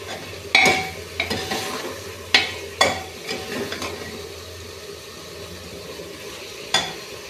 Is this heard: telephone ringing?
no